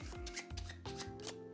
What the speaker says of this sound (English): You can shuffle the cards like this if you'd like.